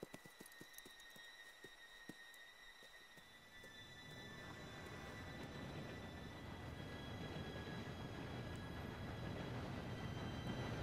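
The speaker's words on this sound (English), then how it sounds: "Train should be here any minute now." A train arrives in the video game Red Dead Redemption, opening with a few sharp metallic clanks before a swelling rumble of rolling rail cars and a high wheel squeal that builds and holds, fairly loud and without talk.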